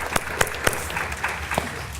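Audience at a 2013 conference breaks into applause, a steady wash of clapping with a few sharper claps standing out, fairly close and continuous throughout.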